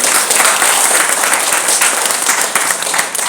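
Loud, steady applause from an audience at a meeting hall gathering, dense clapping filling the whole stretch without pause.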